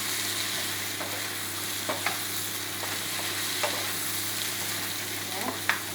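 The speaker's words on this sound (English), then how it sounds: "So I'm going to put my pork that I deep fry early into my wok. Cook it well with the veggie." Pork that was deep-fried earlier is stir-fried with vegetables in a wok for sweet and sour pork, making a steady sizzle with repeated scraping stir strokes at irregular intervals, close and moderately loud, with no talking.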